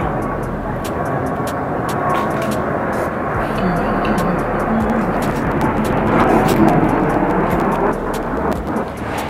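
An airplane passes overhead outdoors, a steady broad roar that swells slightly toward the end, alongside faint background noise.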